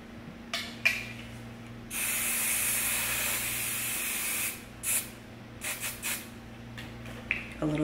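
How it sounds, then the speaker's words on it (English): Hairspray sprayed onto curled hair extensions: one long, loud, steady hissing burst of about two and a half seconds, then several short puffs, close to the listener over a quiet low hum. "A little dramatic with the spray there."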